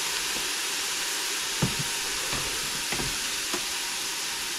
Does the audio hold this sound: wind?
no